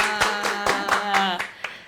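Applause from a small group on an Indonesian Sundanese stand-up and podcast set, a quick run of about eight claps in a steady rhythm, close and fairly loud, with no speech over it.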